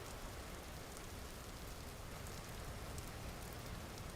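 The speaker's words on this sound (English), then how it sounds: "with all the rain that we've been having" Steady rain falls in the video game Vintage Story, a dense, even hiss of drops that stays constant and fairly close throughout, with no voices or other sounds.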